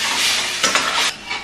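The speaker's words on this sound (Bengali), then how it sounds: "পেঁয়াজ মশলাটা ভালোভাবেই কষে গেছে" Onion and spice masala sizzles steadily in a pan while a spoon stirs through it, with a few scraping strokes over the continuous close frying hiss.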